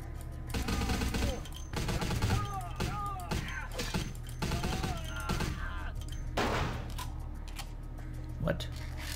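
Gunfire crackles through a Vampire The Masquerade - Bloodlines game session in repeated sharp bursts over a steady background hum, with game voices and a player talking over it.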